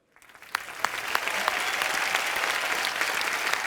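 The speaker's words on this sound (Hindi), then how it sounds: "ताली बजाओ" A comedy show audience breaks into applause, building quickly from a few claps into steady, dense clapping that carries on loudly.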